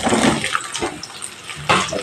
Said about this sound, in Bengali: রিফাইন অয়েল দিয়ে ঝিঙেগুলো একটু ভেজে নেব